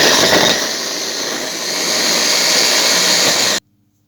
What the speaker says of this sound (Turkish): birazcık parçaladığımız domateslerimizi ve soğanlarımızı şimdi robottan geçiriyoruz.